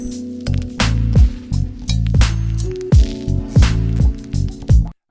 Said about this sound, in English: Bit crush. Let's try that.